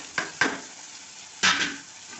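A spoon scrapes and stirs fried garlic, brinjal and turkey berry vathal in a pan in three short, close strokes, the first two quick together and the third after a pause, with a light sizzle trailing each.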